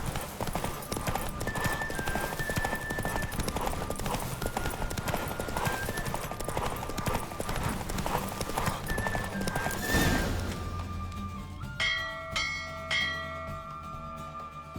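Roach, a horse in The Witcher 3, gallops through a race with fast rhythmic hoofbeats and rushing wind, then slows as bells ring out clearly near the end.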